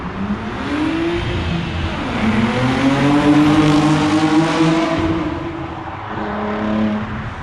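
Tuned 450 hp Audi S4 accelerating past with a rising engine howl that climbs through gears, a brief shift dip midway, swelling loud as it nears, then fading as it pulls away.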